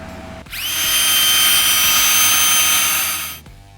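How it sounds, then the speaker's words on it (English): A power drill with a 5/16-inch bit whirs up to a high, steady whine, drilling a hole for wiring in a 2019-2024 RAM 1500 interior, runs for about three seconds, then spins down. "We're gonna go ahead and drill a hole straight through this."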